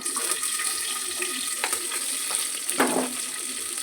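Cumin and green chillies frying in a pan, a steady sizzle with faint stirring scrapes and a few sharper crackles, close and continuous.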